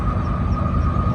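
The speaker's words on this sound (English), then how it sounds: "here comes the train" A CSX coal train rolls past close by, a loud, continuous heavy rumble with a steady grinding hum of wheels and wagons.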